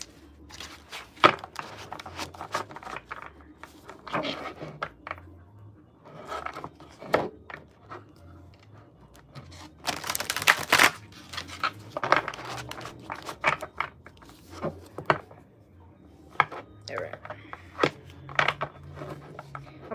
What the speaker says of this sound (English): So I want to shuffle them good as best as I can.